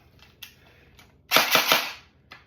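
An airsoft gun fires in short snappy cracks: a few isolated shots, then a quick burst of three or four rapid pops, then another single shot, all close and sharp.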